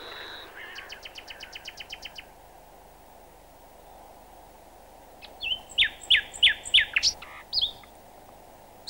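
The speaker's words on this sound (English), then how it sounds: "In the air, the starlings, before they roost, at their evolutions" Starlings calling before roosting: a quick run of rapid ticking chirps, a pause over faint insect-like background hiss, then a louder series of sharp, whistled clicking notes.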